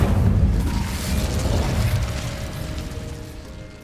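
Incendio fire spell cast in the Hogwarts Legacy video game: a loud whooshing burst of flame that slowly fades over a few seconds, with no talking.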